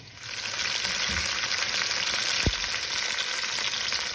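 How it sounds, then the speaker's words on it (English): Pot roast searing in a hot pan, sizzling loudly, a steady broad crackling hiss throughout with a brief clink midway. "your pot roast sizzling as you are searing it on both sides"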